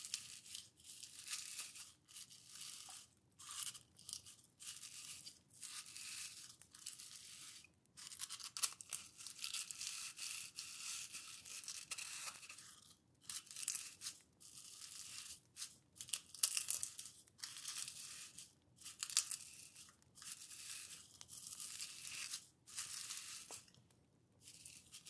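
Ingredients ground in a mortar with a pestle in an apothecary-style potion-brewing setting, giving continuous close, soft scraping and crunching strokes with brief pauses, steady and quiet throughout with no talking.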